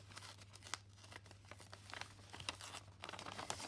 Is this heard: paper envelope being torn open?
yes